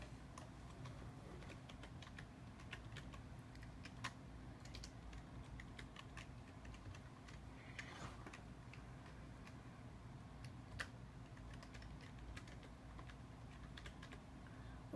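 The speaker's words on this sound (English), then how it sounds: "And you just type in your username." A computer keyboard clicks as a username is typed into the Minecraft website, with quick, irregular keystrokes close by and quiet, and no voices over them.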